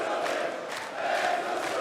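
A darts arena crowd roars and cheers, the player's family among them, a dense wash of many voices that swells and dips slightly before rising again.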